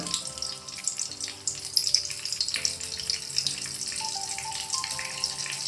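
Butter melting and sizzling in a pan for dhaba-style paneer, a steady crackling hiss running throughout while a simple melody plays underneath.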